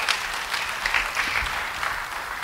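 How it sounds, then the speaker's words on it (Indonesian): A church congregation breaks into applause, a dense, steady wash of clapping from many hands filling the space at moderate distance, with no voices standing out above it. "Beri tepuk tangan bagi dia."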